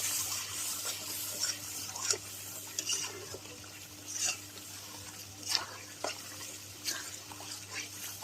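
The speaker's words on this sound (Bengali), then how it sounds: "এবার দিয়ে ভালো করে নাড়াচাড়া করে নেব।" Biryani masala, added along with rose water and kewra water, is stirred in a pot for Kolkata-style chicken biryani, giving soft, scattered scrapes and swishes at an irregular pace over a faint steady hum in a quiet kitchen.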